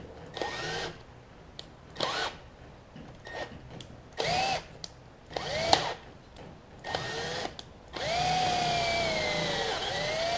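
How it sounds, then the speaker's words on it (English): A power drill bores a hole through the metal shaft of a Mantis tiller in short, repeated bursts whose pitch dips under load. It ends in one longer continuous run, heard close up with no speech. "Or at least drilling the hole worked."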